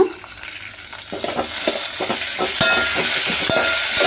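Curry leaves with green and dried red chillies crackle in hot oil for a tempering, a steady close sizzle punctuated by rhythmic scraping stirs that grow louder toward the end.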